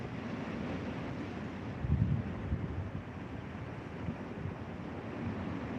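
Waves breaking over rocks in rough open water just off a reef edge, a steady low roar with one heavier surge, mixed with gusting wind buffeting the microphone and no voices.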